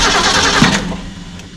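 A car engine fitted with Holley Sniper 2 fuel injection cranks and catches in a loud, close burst, then settles toward a rough idle.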